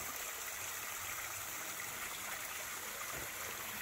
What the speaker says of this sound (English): Got a beautiful stream here.